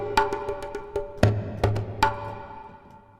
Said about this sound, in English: It's just a simple, basic djembe.